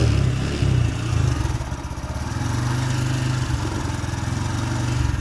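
A Honda Grom MSX 125 motorcycle engine idles close by, a low uneven putter whose idle hunts, rising and dipping in level over several seconds.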